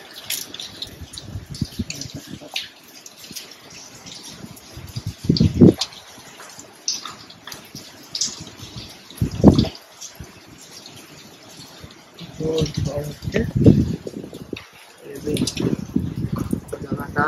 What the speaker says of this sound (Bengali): বৃষ্টি হয়ে যাচ্ছে, আমরা সব জানলা দরজা লাগিয়ে দিয়েছি আর কি।